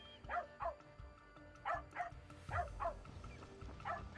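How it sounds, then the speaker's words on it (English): A dog barks repeatedly in quick pairs and short clusters in Assassin's Creed Shadows, moderately close and fairly quiet, with brief pauses between bursts. "but it makes the dog bark? That's really weird."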